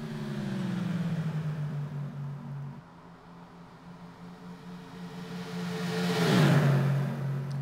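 Stock cars race around Daytona in the Simraceway video game, a steady engine drone whose pitch holds, dips and then swells louder as the cars come past near the end.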